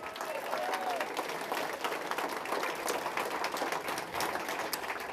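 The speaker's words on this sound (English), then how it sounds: "let's give her a round of applause, too." A crowd at a conservative political rally in White Bear Lake, Minnesota, applauds. The clapping is dense and continuous at an even, fairly strong level for the whole stretch.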